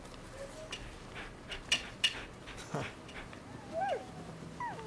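A dog in the samurai action game Rise of the Ronin whimpers and yips softly in short, high whines, fairly close, with faint background clatter and a few quiet sounds from a person.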